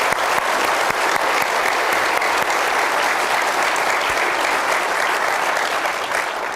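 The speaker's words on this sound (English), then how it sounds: "So how about a round of applause for John?" An audience at a town hall symposium breaks into loud, sustained applause, a dense and even roar of many hands clapping that continues unbroken for several seconds with no talk over it.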